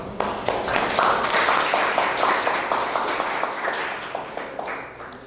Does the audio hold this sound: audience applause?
yes